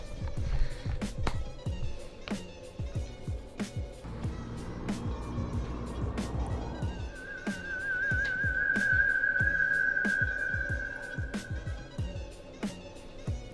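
A person whistles a steady, sustained tone to call a seagull outdoors, rising partway through and holding for several seconds over background clatter and rumble.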